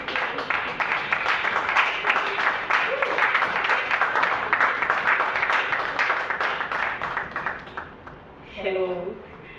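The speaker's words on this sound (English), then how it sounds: "a round of applause for the CEO of Apeh Girls Foundation, Madam Amenyabi Veronica Pell" Sustained audience clapping greets the CEO of Apeh Girls Foundation at the foundation's launch event, with steady rhythmic claps filling the room and a brief voice heard as it winds down.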